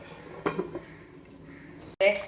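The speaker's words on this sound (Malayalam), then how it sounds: "നമുക്ക് മൂടി വെച്ചൊന്ന് വേവിക്കാം" Two sharp metallic clanks of a lid set onto a pot of threadfin bream curry in coconut milk, one early and a louder one near the end, against quiet kitchen background.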